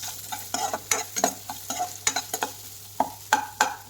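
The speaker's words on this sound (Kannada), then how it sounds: "ಒಣಗಿದ ಮೆಣಸಿನಕಾಯಿ ಮತ್ತು ಈರುಳ್ಳಿ ಎಲ್ಲ ಸ್ವಲ್ಪ ಲೈಟಾಗಿ ಆ್ಯಡ್ ಮಾಡ್ಕೊಂಡು ಚೆನ್ನಾಗಿ ಮಿಕ್ಸ್ ಮಾಡ್ಕೊಳ್ಳೋಣ" Dried red chillies and onions stir-fried in a pan, with a steady run of sharp scraping spatula strokes over a soft continuous sizzle, close and fairly loud, no talking.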